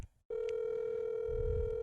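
A telephone ringback tone during a call starts abruptly after a moment of quiet and holds as one steady, unbroken tone, with faint low rumble beneath it.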